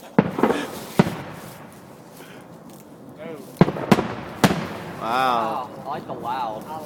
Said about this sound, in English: Like, beautiful fireworks.